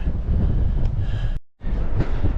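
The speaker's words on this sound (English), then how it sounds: "it's windy as hell" Steady, rough wind buffeting the microphone atop a tower on the Appalachian Trail in the Smokies, loud and continuous, broken by a brief moment of near silence before the gusting resumes.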